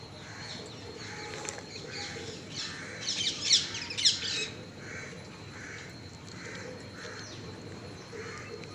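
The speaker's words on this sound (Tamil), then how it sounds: "சுற்றி வந்து காக்கா உட்காந்துக்கிட்டு கத்திக்கிட்டு இருக்கு" Flock of crows cawing around a large monkey perched in a tree in the morning, repeated harsh calls at a steady pace from moderate distance, rising to a louder burst of overlapping caws midway over quiet outdoor background.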